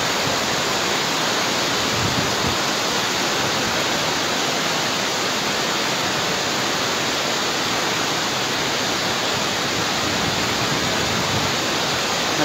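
Strong river current flowing at a fishing spot, a steady, loud broadband rush of water that holds constant throughout with no talk over it.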